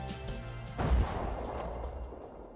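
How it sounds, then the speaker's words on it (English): Mount Yasur volcano erupts with a deep booming explosion that swells suddenly and then rumbles on in a long, loud roar fading slowly. "Regular explosions light up the night."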